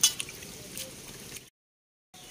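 Bottle gourd leaves are rinsed in water, with soft splashing and trickling close by that stops abruptly partway through, then resumes briefly.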